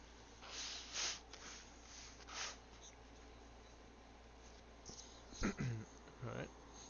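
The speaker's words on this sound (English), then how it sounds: "I'm gonna blow my nose one more time" Nose blown into a tissue indoors, a few short breathy bursts in the middle and late part, near and fairly quiet, with soft shuffling noise between.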